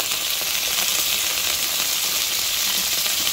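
Marinated chicken wings sizzle steadily in a hot pan with garlic and onion for adobo, a dense, even crackle of frying that holds at a constant level throughout, with no voices.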